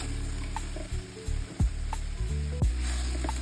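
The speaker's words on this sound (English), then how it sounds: "Alright, everything is frying down nicely." Zucchini, squash and herbs fry in a pan with a steady close sizzle, broken by a few scraping stirs and soft squishy clicks as the veggies are moved around, no talking.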